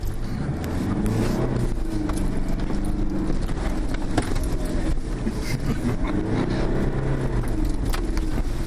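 A car accelerates hard over rocky off-road terrain, its engine roaring steadily from inside the cabin while loose items rattle and jangle throughout.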